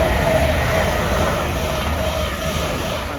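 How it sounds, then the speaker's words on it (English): London Northwestern class 350 electric multiple unit approaching, a steady broad rumble of the train drawing near with a faint high whine, continuous and fairly loud throughout. "we've got a London North Western 350 approaching"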